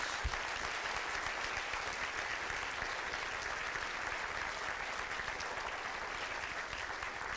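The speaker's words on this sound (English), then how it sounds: "one more round of applause for Tom" Lecture audience applauding an architecture speaker, a dense, even wash of clapping from a full room, sustained without a break for the whole stretch.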